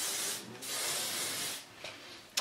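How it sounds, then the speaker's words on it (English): Hairspray is sprayed onto freshly curled long hair, giving soft, breathy hissing bursts close by. Two longer sprays are followed by a fainter short one, and the clip ends on a sharp click. "I'll just take some hairspray"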